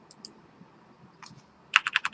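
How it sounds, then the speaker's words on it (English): Arrow keys tapped on a computer keyboard, a few scattered soft clicks followed by a quick run of sharp, close keystrokes at the end. "So I'm just using the keyboard just to,"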